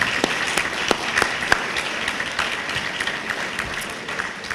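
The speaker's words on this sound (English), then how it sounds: "Let's give them a round of applause." An audience at a veterinary college scholarship dinner claps in a steady round of applause, dense, continuous and fairly close, with sharper individual claps standing out, no talking.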